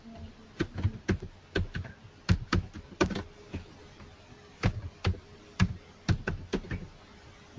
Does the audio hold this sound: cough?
no